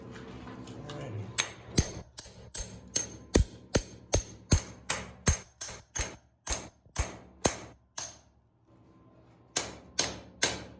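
A hammer strikes something into place in a steady run of sharp metallic blows, about two per second, loud and close, then pauses briefly before a few more hits.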